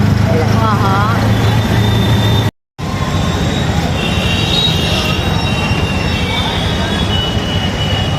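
A moving train on the Solapur to Kalaburgi route rumbles steadily nearby, with metallic wheel squeals rising over the continuous clatter; voices come through faintly beneath the noise, broken by a brief silent gap.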